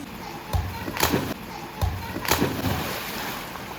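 Splashes into swimming pool water as a body hits the surface, several sharp sloshing bursts spaced about a second apart over a steady watery background.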